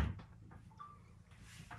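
A cabin door opens into the ensuite of a Dufour Grand Large 485 sailboat, with a sharp close knock of the latch at the start followed by faint creaks and light wooden rattles.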